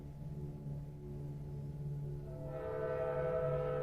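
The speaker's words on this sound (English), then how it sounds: "Sorry for the train." A train passes nearby with a steady low rumble, while a tonal horn or whistle rises in the last seconds and grows louder.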